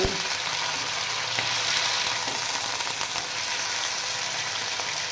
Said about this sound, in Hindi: इसको अच्छी तरह से भून लेंगे ब्राउन होने तक।